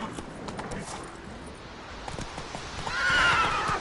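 In The Witcher 3, the horse Roach gallops with a steady run of hoofbeats, then gives a louder whinny near the end, close and clear over faint background noise.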